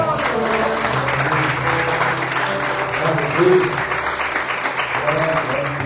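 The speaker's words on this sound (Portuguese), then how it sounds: "Você pode aplaudir o Senhor?" A church congregation applauding during a celebration service, a steady crowd clap under sustained music or voices, with tonal sounds threading through the whole stretch.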